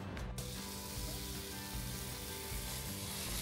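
Chicken and lamb sizzle steadily on an outdoor barbecue grill, a dense continuous crackle and hiss with low rumbling underneath, close and constant throughout.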